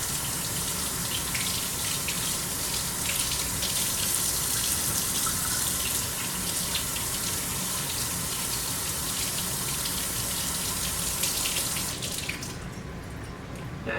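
Apples are washed under a running kitchen tap, water gushing steadily into the sink for about twelve seconds before the flow stops and the sound quietens.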